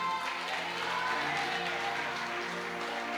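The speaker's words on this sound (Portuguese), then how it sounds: "Bate uma salva de palmas para o Rei Jesus." A congregation at a church congress breaks into sustained applause, a continuous moderate roar of clapping mixed with music and crowd noise, with no clear gaps.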